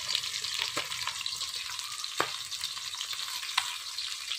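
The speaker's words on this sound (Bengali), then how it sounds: "সরষের তেল দিয়ে দিলাম, কড়াই গরম হয়ে গেছে, দিয়ে দিলাম মাছগুলা।" Fish sizzles in mustard oil in a hot wok, a dense, even crackling hiss close by with a few sharp pops standing out and no talking.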